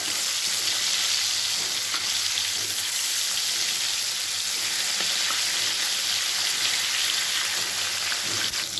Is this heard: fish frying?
yes